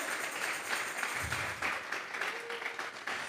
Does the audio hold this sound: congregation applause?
yes